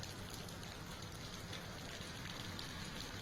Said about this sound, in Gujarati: મોટી તુંબડી ગામમાં વરસાદ પડ્યો